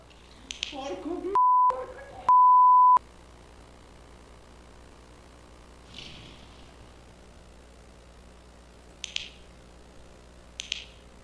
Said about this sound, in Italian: Che era quel bip?